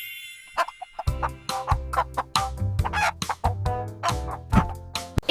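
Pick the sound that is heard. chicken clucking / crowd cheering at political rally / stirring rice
chicken clucking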